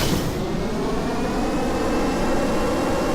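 A light plane takes off in the video game Kerbal Space Program, its engine a steady, loud droning roar that holds level throughout with no talking.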